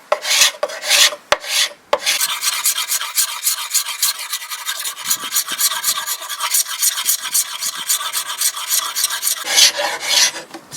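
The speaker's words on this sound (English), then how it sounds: "So I'm going to be scraping that" Hand scraper stripping old finish off a solid oak side table: rapid, steady rasping strokes in a continuous rhythmic run, close and fairly loud, with a few sharp knocks and pauses at the start and a brief break near the end.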